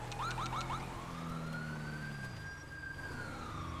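Police car siren in GTA 5 with the LSPDFR mod: a rapid yelping burst of short rising whoops, then a long steady wail, loud and close over a low rumbling engine, with no talk.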